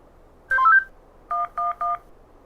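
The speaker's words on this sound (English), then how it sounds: "The last thing to use is the cell phone." Cell phone dialing tones in the Henry Stickmin video game: a short beep cluster followed by three evenly spaced, clean tone presses, clear and close.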